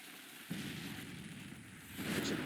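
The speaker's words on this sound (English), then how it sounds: "we're already hitting them with some cannons, so that's good" Cannon fire in the Grand Tactician: Civil War strategy game, a sustained rumbling boom that starts abruptly and swells again near the end, loud and continuous with no talk.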